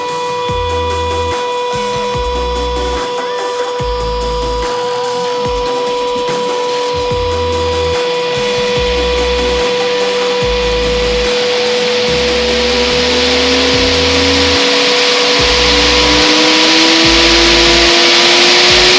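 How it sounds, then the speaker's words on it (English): Electric cooling fan for a BMW engine swap buzzing steadily, its pitch climbing gradually as it is turned up slowly to maximum speed, growing louder and airier toward the end, with no talking. "you'll hear a buzzing noise, and the fan will start spinning"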